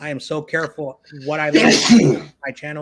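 A person talks, then a sudden breathy sneeze bursts through the middle of the speech before the talking resumes.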